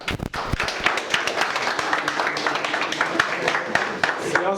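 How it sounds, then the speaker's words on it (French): Audience clapping at a mayor's book launch in Bandal, a dense run of sharp claps that carries on steadily for several seconds with a bit of voice mixed in. "Merci d'applaudir, s'il vous plaît."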